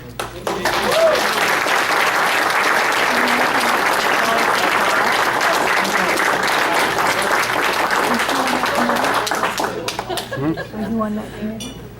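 Warm audience applause following a music scholarship presentation, dense steady clapping lasting around ten seconds before thinning out, with some faint clinks and murmurs as it fades.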